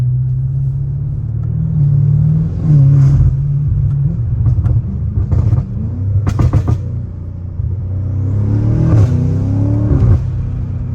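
An 850hp BMW M5 drives through tight downhill bends, its deep engine rumble rising and falling with revving between corners, plus brief knocks and clicks. The sound is close and loud, with no talking.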